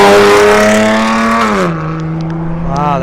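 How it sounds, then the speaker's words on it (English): A car engine and exhaust rev loudly past on a road at Torrey Pines in San Diego, a close, droning roar whose pitch drops as it moves away. "my least favorite sound from any engine or exhaust"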